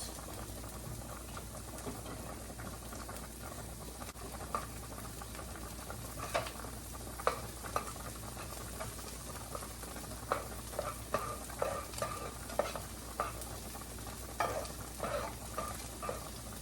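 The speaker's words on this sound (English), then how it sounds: "Take a little bit of the compound butter, put it in, and let it melt." Compound butter melting and sizzling in a pan for cheeseburger pasta, a steady low frying hiss with soft crackles and scattered pops, fairly quiet and close, with no one talking.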